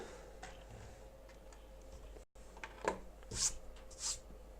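Keyboard and other desk items shuffled and slid around on a desk, a few faint scrapes and light knocks in a quiet room.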